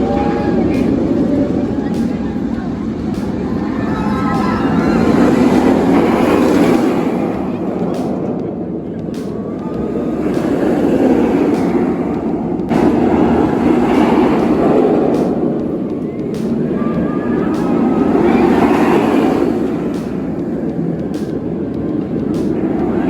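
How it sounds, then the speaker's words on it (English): The Rougarou roller coaster at Cedar Point runs in loud, rolling rumbles that swell and fade as trains roar past. A busy crowd murmurs underneath, and a voice talks at times. "we're gonna head over to probably the worst coaster in the park, Rougarou"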